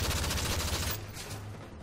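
Rapid gunfire in the video game Modern Warfare 3, a dense fast rattle of shots for about a second, then fading into quieter tail and background noise.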